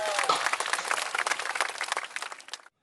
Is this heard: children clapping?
yes